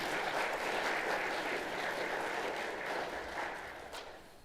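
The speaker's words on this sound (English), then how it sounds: "Let's give them a round of applause too." Audience applause at a Sunday evening veterans' church service, steady and full at first, then gradually tapering off over a few seconds, heard from a moderate distance.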